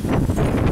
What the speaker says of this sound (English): The wind out here, it's stronger than usual.